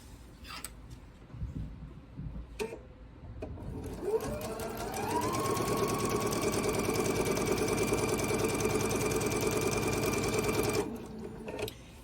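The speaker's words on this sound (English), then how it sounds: "I'm going to sew on right here down this side." A sewing machine stitching a seam on a quilt block, a few handling clicks and then a steady, close mechanical whir that runs for about six seconds before stopping.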